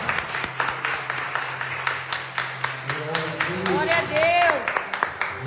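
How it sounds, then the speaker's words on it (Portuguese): Church congregation applauding during a Friday evening service, a steady patter of many hands clapping through the clip while someone speaks over it and voices call out near the end. "E a salva de palmas ao Senhor"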